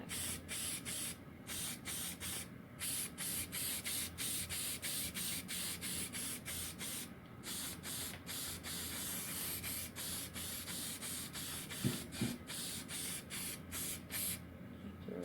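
Black spray paint hisses steadily from an aerosol can in a long continuous burst, with many short pauses and restarts between passes, close and fairly loud, with no talking.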